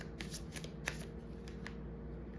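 Tarot cards are shuffled for a reading, giving a soft, quick riffle of paper flicks close by over a low steady hum.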